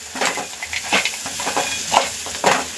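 Sandge (dried lentil dumplings) frying in hot oil with spices in a home kitchen, giving a steady close sizzle and hiss with soft stirring scrapes of a spoon in the pan.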